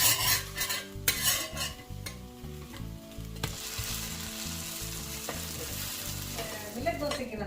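Millet dosa batter fries on a hot pan with a continuous crackling sizzle, joined by a few metallic scrapes and clinks of a utensil against the pan, with no voices.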